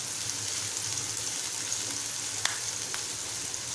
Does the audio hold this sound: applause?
no